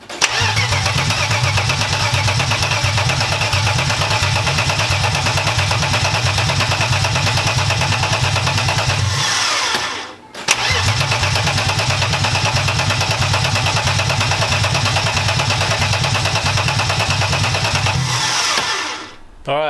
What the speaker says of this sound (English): when you saw me attempt to start this car